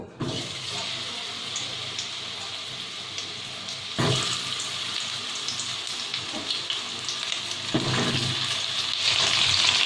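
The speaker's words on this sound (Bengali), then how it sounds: "এবার আমি যে পটল কেটে নিয়েছিলাম সেই পটলগুলো এর মধ্যে ভেজে নেব।" Sliced pointed gourd (potol) frying in hot mustard oil, a steady close sizzle with bursts as pieces are stirred, no voices.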